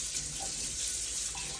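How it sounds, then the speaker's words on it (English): Steady rush of running tap water as something is rinsed under the faucet in a kitchen, continuous and close with a faint splash change partway through. "let me rinse this off."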